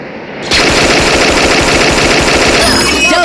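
Rapid automatic gunfire from PUBG Mobile, a sustained loud burst of fast repeated shots that starts abruptly and runs continuously for a few seconds, with game sound effects behind it.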